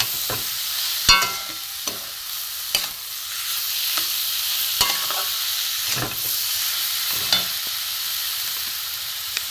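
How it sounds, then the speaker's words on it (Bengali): Grated carrot with sugar and semolina frying in a pan, a soft continuous sizzle broken by sharp scraping knocks of a spatula stirring at irregular intervals, close by. "চিনি দেবো কিছুটা। এগুলো সব ভাজবো একসাথে।"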